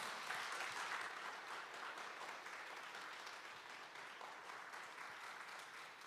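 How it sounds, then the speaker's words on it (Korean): Steady, fairly distant applause from a church congregation welcoming an elder forward at a Friday evening service, an even wash of clapping that holds throughout at low level. "우리 장경문 장로님 나오실 때 우리 큰 박수로 장로님 환영하도록 하겠습니다"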